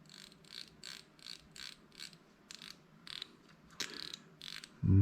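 A dual gang potentiometer on a Kenwood TS-850 radio is turned back and forth during a cleaning with contact cleaner, giving a quiet run of soft, regular scratchy clicks that repeat steadily and close by.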